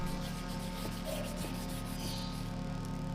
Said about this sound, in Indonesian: Kita gosok sampai bersih, sisa oli, sisa cat, sisa karat kita bersihkan semuanya.